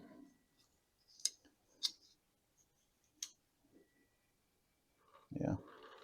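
Pruning shears snipping a branch off a ficus bonsai tree, several crisp close clicks and cuts spaced apart, followed by a brief voice.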